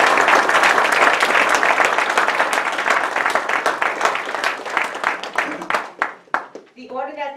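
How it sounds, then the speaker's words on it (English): A crowd at a mayoral election candidate forum applauds, starting dense and loud, then thinning into scattered individual claps that fade out as a voice begins speaking. "Please, you may applaud."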